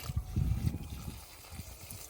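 Water running through a gold recovery tool for separating gold from sand, its speed regulated electronically. The steady trickle and gush is moderately loud and close, and no one talks over it.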